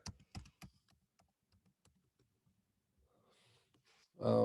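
Quick keystrokes tap on a computer keyboard as a password is entered, a brief close burst at the start that fades into a few scattered soft clicks before a louder sound cuts in at the end.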